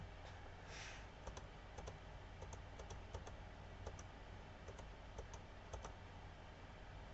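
Someone taps on a computer keyboard with quiet, irregular clicks in short bursts over a low steady background hum, no talking.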